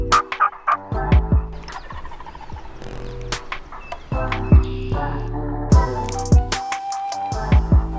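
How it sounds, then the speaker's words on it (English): Wild turkey gobbling in the spring woods, several loud rattling gobbles in quick bursts from nearby birds, repeated throughout with brief pauses between calls. "There's another gobble."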